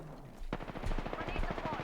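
Rapid automatic gunfire from the video game Apex Legends, a fast rattling burst that starts abruptly and keeps going, fairly quiet overall.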